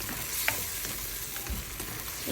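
A pork chop seasoned with pepper and Knorr chicken cubes sizzles steadily in a pan while being stirred, with a soft scrape at times.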